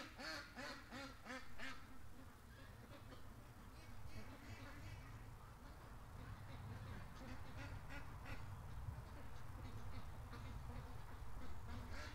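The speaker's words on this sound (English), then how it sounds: "Now the ducks are staying out of the creek." Ducks quacking near a creek, several birds calling in rapid bursts, loudest at the start and again later, over a steady low outdoor background with faint talk.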